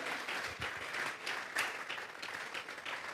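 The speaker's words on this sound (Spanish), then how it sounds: "Vamos a regalarle ofrenda de palmas al Dios de la gloria." Church congregation clapping as an offering of applause, a steady patter of many hands, moderately close and fairly even, with a few sharper individual claps.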